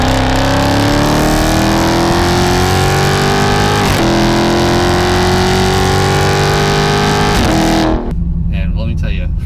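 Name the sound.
2017 Dodge Charger Scat Pack 6.4L Hemi exhaust, mid muffler delete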